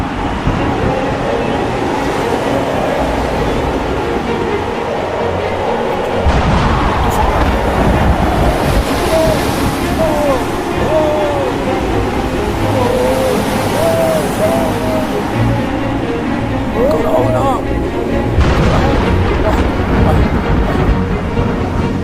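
Heavy, roaring stormy sea surf churns against a ship taking on water, with gusty wind noise, surges of crashing water and faint creaks and voices underneath.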